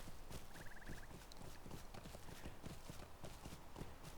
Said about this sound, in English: I very rarely go this way without just using the horse to take me there.